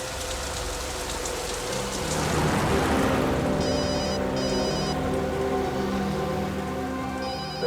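A telephone rings in short, trilling bursts through steady, heavy rain pattering on a surface. The rings come twice in a row, then once more a few seconds later, softer than the rain.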